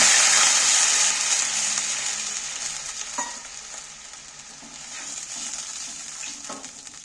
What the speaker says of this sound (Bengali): দেখো সর্ষেটা আমার ভাজা হয়ে গেছে এবার জল দিয়ে দিচ্ছি